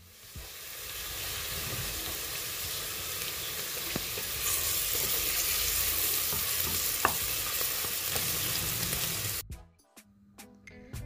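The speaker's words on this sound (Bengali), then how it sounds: "তাই আমি 2 রকম পেঁয়াজ দিয়েই এখন এটা হালকা করে একটু লাল করে ভেজে নিব।" Onion paste and chopped onion frying in hot oil, a continuous loud sizzle with occasional stirring scrapes, the frying cutting out abruptly near the end to leave a few quieter clinks.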